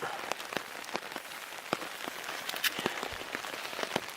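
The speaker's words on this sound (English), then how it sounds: "It's been pouring for the last 2 hours. Pretty hard. Not letting up." Heavy rain pours steadily on Gore-Tex rain gear at a camp, a dense hiss broken by sharp close drop hits, with no voices.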